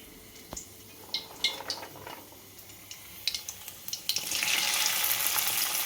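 Okra pieces frying in hot oil in a home kitchen pan, with scattered spoon taps and clinks, then a louder sustained sizzle as more pieces hit the oil.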